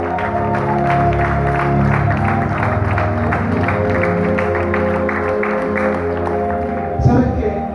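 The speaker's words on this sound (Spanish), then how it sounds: "Dale fuerte un aplauso a Dios." A church congregation claps together, a dense sustained burst of applause under music, fading near the end with a short sound as it stops.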